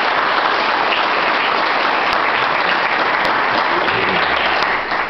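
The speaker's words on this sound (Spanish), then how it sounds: "Un aplauso para ellos." Audience applauding the actors at a welcome event, dense sustained clapping from a large crowd that holds steady throughout and tapers off slightly at the very end.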